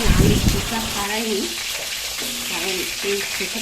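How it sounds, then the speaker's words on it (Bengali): Potatoes frying in hot oil in a pan give a loud, continuous sizzle with scraping stirs, while a voice talks over parts of it. "মা এখানে প্রথমে এখন আলুটা ভেজে নিচ্ছে"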